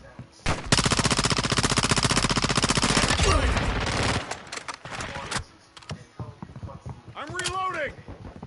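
Rapid automatic gunfire in a video game shooter, a long loud sustained burst followed by scattered shots, with game voice callouts and radio chatter heard throughout.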